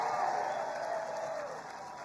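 A large crowd at an Iowa fairgrounds rally cheers and applauds in a steady, distant roar that gradually fades over a couple of seconds.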